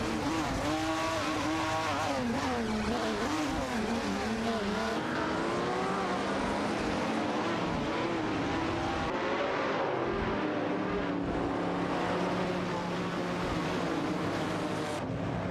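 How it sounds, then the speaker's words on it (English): Classic race cars, including a Ferrari 250 GTO, battle on a track in a racing video game, loud engine notes rising and falling through gear changes with overlapping cars and occasional tire squeal, no voices. "It's a close battle between these two classic cars on the track."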